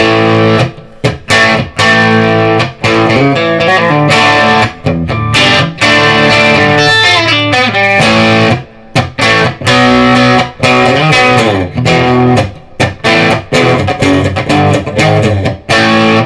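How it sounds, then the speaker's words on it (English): Loud, crunchy electric guitar through tube-screamer-style distortion on a Firefly FFTH Tele Thinline copy plays chords and picked notes continuously, with brief gaps between phrases. "I've got it set for a fake tube screamer, and I can just give it just a little more grunt"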